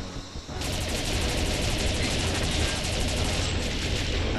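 Rapid gunfire in the video game Jet Force Gemini, a dense continuous burst of loud shots that starts abruptly and holds steady, with no talk.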